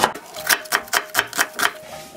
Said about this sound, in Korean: 양파 반 개만 채를 썰어서 넣겠습니다. 이렇게 곱게 채를 썰어주세요.